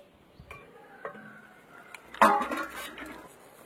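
A lid goes onto a cooking pot of mocha chingri, banana flower with prawns, simmering in water: a few light ticks, then one sharp metallic clatter and a brief rattle, close and alone.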